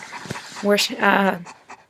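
A large Bernese mountain dog sitting on a bed pants close by in short, breathy bursts, interleaved with a person talking over it.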